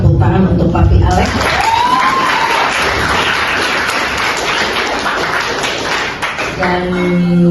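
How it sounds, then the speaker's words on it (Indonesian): Audience at a school training session in Jakarta claps for a guest, a busy burst of applause mixed with talk and room noise, fairly loud and sustained for several seconds. "tepuk tangan untuk Papi Alex."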